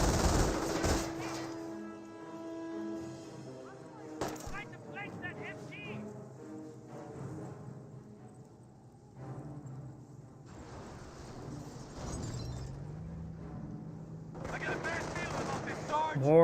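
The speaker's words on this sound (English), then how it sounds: "MG42 does find the Stormtrooper" MG42 machine gun fire in Company of Heroes, quiet bursts of rapid gunfire in the game's battle mix, heard under a commentator's voice.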